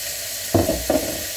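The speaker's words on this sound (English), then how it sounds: "we're going to throw the beef in there and brown it off" Gravy beef browning in hot oil, with a steady close sizzle throughout and two brief louder bursts as the meat hits the pan or shifts.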